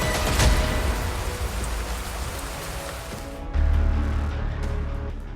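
Steady rain falls in the Abujmarh jungle, a dense even hiss of drops on leaves and ground, with a low rumble swelling partway through.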